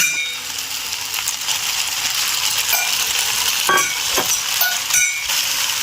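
Pre-fried crumbled egg tipped into a pan of chicken pasta and stirred, a steady loud sizzle with scraping spatula strokes and a few metallic clinks.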